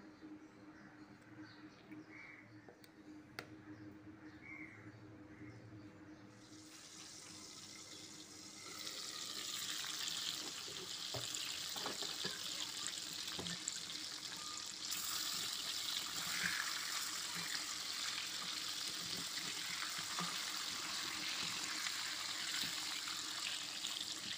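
Water poured into ground coriander, chilli, turmeric, Kashmiri chilli and fennel powders in a home kitchen, a faint steady stream of running water that swells partway through and continues evenly to the end.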